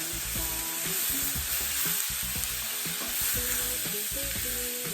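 Mexican squash stuffing sizzling steadily in a pan while being stirred, with scraping knocks of the spoon over a continuous loud fry, close up and without talk.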